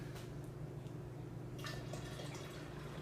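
Mr Beer Howling Red Ale wort, brewed with Oktoberfest Lager, pours into a fermenter in a steady close rush of liquid, with a brief splashier surge partway through and no talking.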